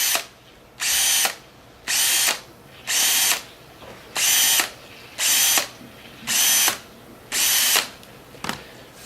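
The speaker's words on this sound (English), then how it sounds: "Insert the deburring bit into your drill and then just lightly deburr each of the holes." A drill fitted with a deburring bit lightly deburrs drilled holes in a custom manifold header, running in eight short, evenly spaced whirring bursts of about half a second each, close and clear with no talking.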